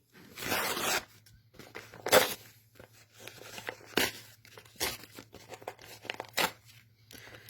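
Tearaway stabilizer being ripped off the back of an embroidered sunflower denim bag, a series of short, crisp tearing bursts separated by pauses, close and fairly loud.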